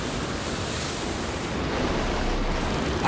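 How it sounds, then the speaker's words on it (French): Strong wind and crashing sea waves in a stormy radio-drama scene, a dense, steady roar that swells slightly toward the end, with no voices. "Le vent est trop fort."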